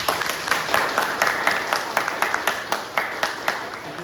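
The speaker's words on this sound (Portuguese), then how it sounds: "palmas para Jesus" Audience applause at a spiritist lecture on psychosphere: a room full of steady, dense clapping with regular accents, moderately loud and close, with no voice over it.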